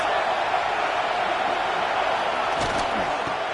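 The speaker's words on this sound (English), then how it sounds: "This crowd trying to make life miserable for this offense." A football stadium crowd at an NDL game against Purdue roars as a steady, loud wash of noise throughout, with a brief burst of louder activity near the end.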